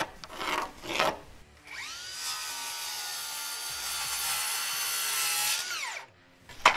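Barnwood being sawn: two short rasping strokes, then one long, continuous cut that grinds steadily for about four seconds before stopping abruptly, followed by a brief knock.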